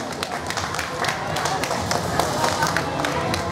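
An audience claps to welcome a guest at a Thai-Japan folk music and sport event for children, with steady scattered clapping continuing throughout, fairly close and moderately loud.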